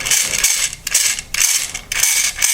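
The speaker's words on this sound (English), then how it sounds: "You can hear when it really starts to spin up there that everything kind of jitters in there from the loose shimming" A Lancer Tactical LT-19 airsoft gearbox spins up with loose shimming, giving a rattling, jittery mechanical whir that repeats in four quick even cycles, close and alone.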